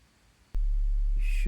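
A Behringer System 100 121 dual VCF filter at full resonance self-oscillates into a sudden, loud, steady low hum that cuts in abruptly and keeps droning with reverb, joined by a brief higher shimmer.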